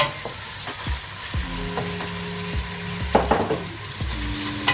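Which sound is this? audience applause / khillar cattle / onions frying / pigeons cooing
onions frying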